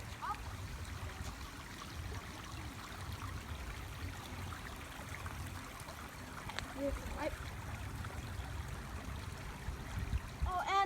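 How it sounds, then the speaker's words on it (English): A small waterfall-like flow of water pours under a little bridge on a nature walk, a soft continuous trickling rush with a person briefly speaking over it. "it's like a waterfall. All the water comes there and then under through here"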